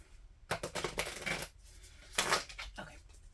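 Two quick bursts of cards being riffled and shuffled close by, a crisp fluttering rattle each time with a pause between.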